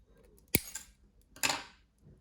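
Scissors snip twice to trim excess ribbon on a glued craft piece, with two sharp close cuts about a second apart and quiet handling in between.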